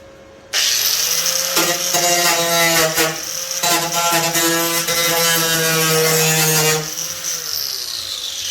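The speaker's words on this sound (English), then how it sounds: "Grinder." A grinder working on the body of a Hyundai Elantra being prepared for a demolition derby: a loud, high motor whine spins up, bites with a harsher scraping tone through a few seconds of steady grinding, then winds down.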